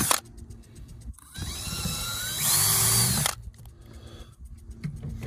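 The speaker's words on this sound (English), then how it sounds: "Drill all the way through them and do it again." A power drill bores through a stack of plastic cups, whining steadily for about two seconds and rising in pitch midway, with quieter tool noise before and after.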